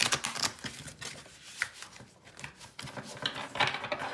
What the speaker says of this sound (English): I'm just gonna give it a good shuffle